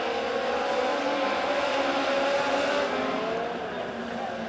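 Legend race cars roar around an oval track in a feature race, several engines droning and shifting pitch continuously and loudly, with a steady crowd-like wash beneath and no talk.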